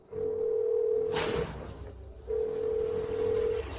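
A phone call tone plays while calling: a long steady electronic tone, a pause with a brief rustling burst, then the same tone again, loud and close.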